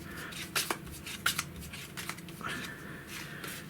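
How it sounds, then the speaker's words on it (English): A deck of cards is shuffled during a Marvel Champions card game, with several quick papery riffling bursts, close and fairly soft, set against faint background murmur. "Then shuffle my deck."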